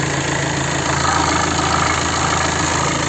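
A 2020 VW Sharan with a 2.0 TDI 150 hp diesel engine and DSG gearbox idles steadily up close, giving an even, continuous rumble with a faint knocking texture and no voices.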